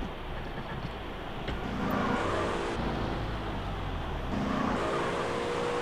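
Car engine driving steadily in GTA San Andreas, a continuous mid-level hum with slight shifts in pitch, plus background game ambience; a voice talks briefly over it.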